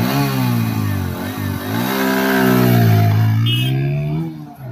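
A Yamaha MT15, Yamaha FZ25 or TVS Apache RTR 160 4V motorcycle in a highway drag race, its engine loud and close, revving hard and climbing steadily in pitch as it accelerates, then fading slightly at the end.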